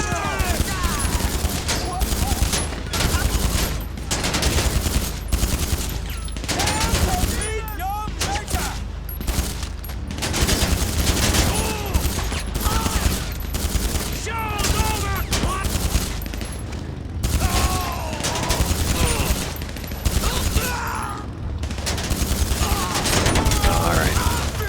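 Dense, continuous gunfire and automatic weapon bursts from a GTA 5 Online firefight against armored vehicles such as the Kuruma, loud and nearly unbroken across the whole stretch, with some speech mixed in.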